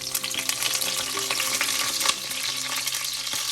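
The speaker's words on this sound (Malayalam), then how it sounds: "ഒന്ന് മൂക്കുമ്പോൾ അതിലേക്ക് കുറച്ച് കറിവേപ്പില ഇടാം." Fenugreek seeds and curry leaves frying in hot coconut oil for a tuna fish curry, a steady close crackling sizzle with brief louder spits and pops throughout, no voices.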